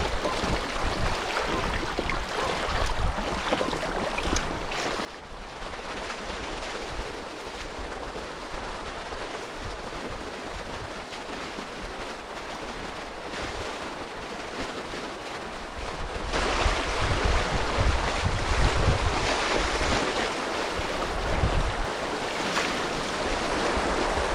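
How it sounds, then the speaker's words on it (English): Bouncy river waves slapping against a small fishing boat or kayak on a smallmouth bass river, a steady broadband wash with wind buffeting the microphone, louder in the opening and closing stretches, with no talking. "pretty bouncy waves"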